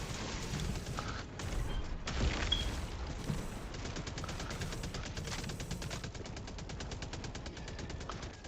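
Sustained automatic gunfire in the video game Helldivers II, rapid continuous bursts with dense rattling shots and occasional heavier booms, loud and close throughout with no talking.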